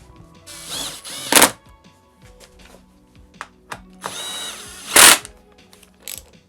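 Bolts being tightened on a Suzuki DRZ400SM motorcycle with a power tool, in two loud bursts of whirring and ratcheting, plus quieter clicks and metallic handling sounds between them, close up.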